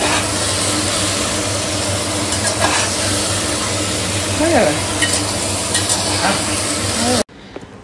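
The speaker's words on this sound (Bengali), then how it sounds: "পেঁয়াজটা লাল লাল করে ভাজা হয়ে গেলে তারপরে ওর মধ্যে মাটনটা দিয়ে দিলাম" Mutton sizzles and fries with browned onions in a pan, a loud continuous crackle with occasional stirring scrapes, running steadily before stopping abruptly near the end.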